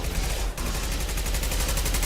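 Gunfire in Mass Effect 2 runs as a continuous loud barrage of rapid shots for about two seconds, close and dense, with no talk.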